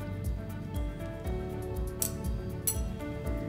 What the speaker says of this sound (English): Now, I'm just going to stir these up